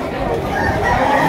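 Rooster crowing at the Lipa City auction market, a single loud nearby crow rising above a busy crowd murmur.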